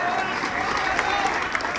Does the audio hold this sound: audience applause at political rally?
yes